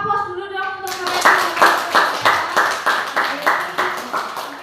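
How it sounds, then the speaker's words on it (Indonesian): An audience at a teachers' seminar claps in rhythmic, steady unison beats, about nine loud synchronized claps following a brief spoken prompt. "beri aplaus dulu dong untuk mereka"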